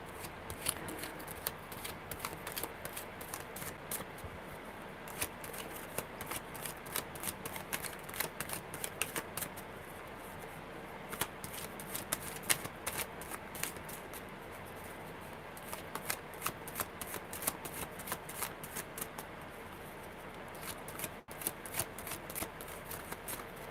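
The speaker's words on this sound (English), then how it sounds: "that was a really good tight shuffle. I love tight shuffles." Continuous crisp riffling of tarot cards being shuffled tightly, rapid flutters and snaps repeating close up for a long stretch with no voices.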